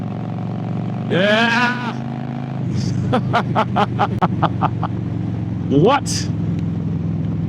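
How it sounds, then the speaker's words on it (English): A motorcycle engine drones steadily at low pitch while the bike is ridden, with a brief rising rev near the end, under excited shouting and a run of sharp ticking clicks. "This bike is amazing. You hear me? Absolutely amazing."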